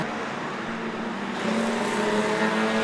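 Alfa Romeo race cars battling at Cadwell Park, engines droning steadily and building louder midway as the pack closes in, a continuous racing roar with no talk.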